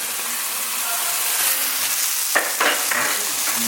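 Beef burger patty and fries frying in a pan, a loud, dense, continuous sizzle up close, with a couple of brief stirring scrapes near the end and no speech.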